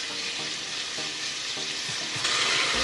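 Onion and garlic sizzle steadily in a hot pan for a mung bean stew, a continuous close frying hiss with a few soft stirring knocks and a louder burst near the end.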